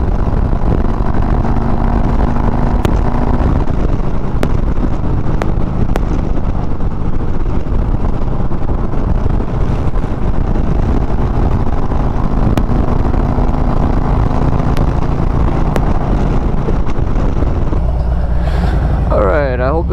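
Harley-Davidson Road Glide with aftermarket exhaust heard while riding, a continuous rumbling engine drone under heavy wind noise, with someone talking over it.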